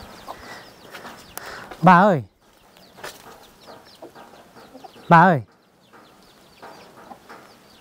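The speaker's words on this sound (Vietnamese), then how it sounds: "Những con gà ở đây này." Chickens in a small homemade coop cluck and call, with two loud, wavering squawks rising above scattered softer clucking. A person talks nearby throughout.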